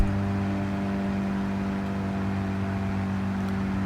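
Steady engine drone of a small Abarth being driven flat out at about 80 mph in Gran Turismo 7 on the Nürburgring; a constant, even hum with no revving changes.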